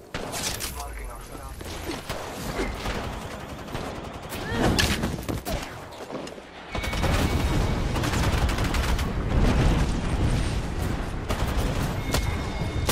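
Bursts of automatic gunfire and explosions fill a shooter video game, with rapid volleys that grow louder and denser partway through and continue steadily, while voices speak over the shooting.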